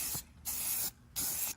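Spray gun coating an engine block for a Nissan 240SX, three loud bursts of hissing spray separated by short pauses, close up with no talking.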